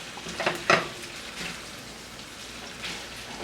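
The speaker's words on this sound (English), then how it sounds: "So I just want to mix it in with our shallots, tomatoes, and bacon." Pasta being tossed in a hot pan with shallots, tomatoes and bacon, giving a soft steady sizzle with a few scraping stirs near the start and a faint clatter again toward the end.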